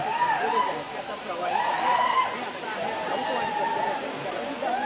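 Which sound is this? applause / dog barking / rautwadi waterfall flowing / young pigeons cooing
rautwadi waterfall flowing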